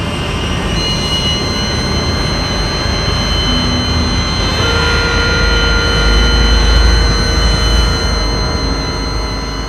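A fighter jet engine roars loud and steady, a dense broadband rush with a high whine layered on top, swelling slightly in the middle of the stretch.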